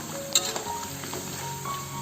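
Peanut chips frying in hot oil over a small flame, sizzling steadily throughout while being stirred, with a few soft clinks of the utensil against the pan and no talking.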